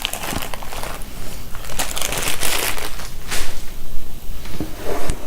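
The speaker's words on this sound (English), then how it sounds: "so you can pull the wax paper out." Wax paper rustles and crinkles as it is lifted and pulled out of a glass baking dish holding a bacon log, with several close crumpling scrapes and crackles over a few seconds.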